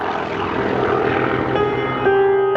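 Propeller transport plane carrying paratroopers, engines droning steadily and loudly in flight, with a sustained broadband roar and a tonal hum that rises slightly near the end.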